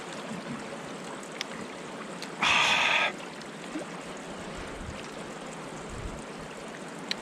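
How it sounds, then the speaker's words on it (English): Natural spring water flows out of the ground outdoors as a faint, continuous trickle. A brief, louder hissing splash cuts in for about half a second partway through. "there's a spring here that just comes right out of the ground up there"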